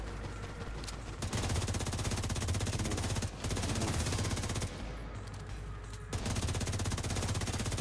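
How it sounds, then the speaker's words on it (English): Sustained rapid automatic gunfire from The Recruiter video game, a dense rattling burst that runs almost continuously, with brief dips near the start and in the middle before it resumes at full loudness. "Okay, now I'm shooting."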